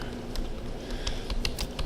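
Code being typed on a computer keyboard, a steady run of near, close-miked key clicks with a few louder taps, heard alone.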